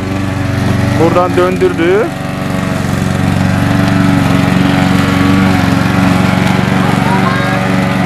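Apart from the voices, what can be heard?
lawn mower running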